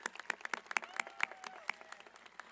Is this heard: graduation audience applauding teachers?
yes